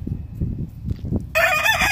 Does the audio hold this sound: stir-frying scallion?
no